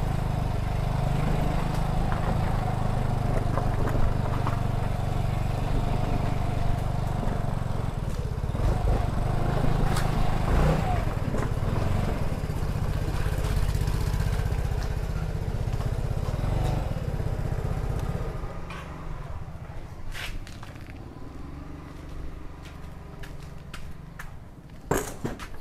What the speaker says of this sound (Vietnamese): Rồi để mình chạy đi, mình chở xe đi.